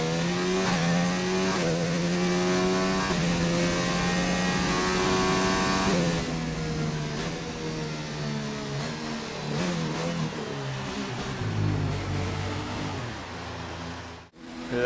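Simulated Formula 1 race car from F1 2019 at the Austrian Grand Prix, its high-pitched engine screaming loud and steady, then the note dropping and rising through gear changes and revs, with a sharp cut near the end.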